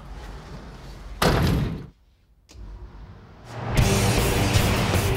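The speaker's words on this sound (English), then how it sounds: "I'm closing the door." A paint spray booth door in a car shop closes with a loud whooshing thud, followed by a brief near-silence before the booth's airflow roars up again.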